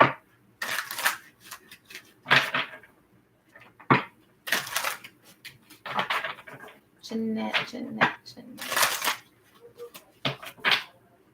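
Deck of tarot cards being shuffled during a love reading, a series of short crisp riffling bursts in an irregular rhythm, close and fairly loud, with brief quiet gaps between them.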